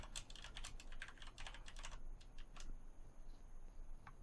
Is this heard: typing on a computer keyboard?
yes